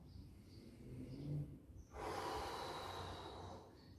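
A power yoga practitioner takes an audible inhale, then lets out a long, forceful breath through the nose and mouth lasting about two seconds, close and breathy with nothing else around it.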